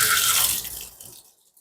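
Fresh turmeric is washed in running water, with a splashing, tap-like rush that is strong at first, then thins out and fades into near silence.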